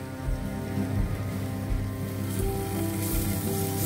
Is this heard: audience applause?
no